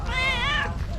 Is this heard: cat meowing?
yes